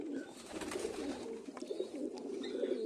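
Pigeons cooing inside a breeding loft where paired birds are nesting with eggs and chicks; soft, low murmuring coos run continuously, close and fairly quiet, with faint rustling in the background.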